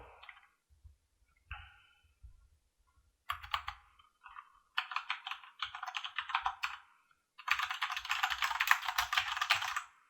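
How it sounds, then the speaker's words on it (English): Close, crisp clatter of typing on a Corsair K70 RGB mechanical keyboard with Nordic layout, starting as a few isolated keystrokes and building into dense, rapid runs of clicky key presses, with no talking. "This is my first mechanical keyboard."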